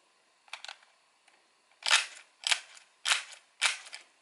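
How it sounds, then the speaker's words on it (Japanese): An action-origami paper push button is pressed several times, giving a few light taps and then four loud, sharp clicks at a steady pace, close up with no talking. "ものすごいクリック音を出します。"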